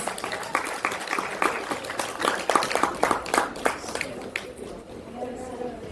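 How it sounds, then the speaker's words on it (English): A small audience at a hemp industry panel in Boston claps for the panelists, scattered individual claps at moderate volume that fade out after about four seconds, leaving chatter and voices. "Can we give them and yourself a round of applause?"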